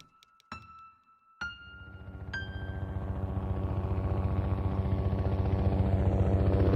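A helicopter during the Zamboanga siege, its rotor and engine drone rising steadily and growing louder as it approaches, preceded by a few sharp metallic clanks or impacts.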